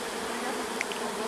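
Honey bees swarming around a teaching beehive at an apiary give off a dense, continuous agitated buzz, loud and close, with no pauses.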